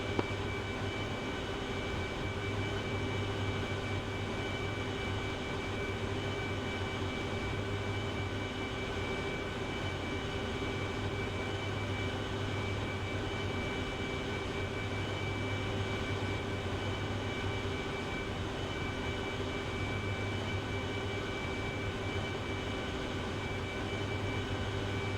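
Steady droning hum of an aircraft flying inbound during night close air support training, constant engine tone with no breaks, alone and unchanging throughout.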